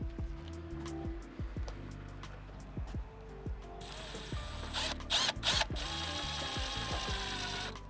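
A screw is driven through the plastic van shade in a van conversion, giving a steady close whir with clicking ratchet-like ticks that grows brighter and louder toward the end.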